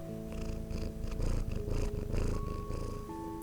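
A pet cat purrs steadily and close up while resting on a lap and being petted, a soft continuous rumbling with no talking over it.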